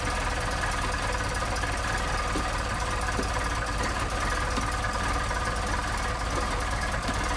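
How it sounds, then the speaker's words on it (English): A German Motorwerks Solex engine idles after a cold start, a steady, even mechanical hum with faint rhythmic knocking that runs unbroken and moderately quiet for the whole stretch. "Settling right into a nice idle."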